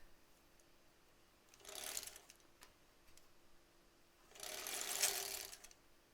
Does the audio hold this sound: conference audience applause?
no